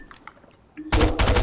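Gunfire in the Fortnite video game: after a quiet moment with small clicks, a loud close burst of rapid shots erupts, pauses briefly, then continues.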